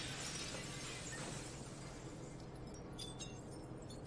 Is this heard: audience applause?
no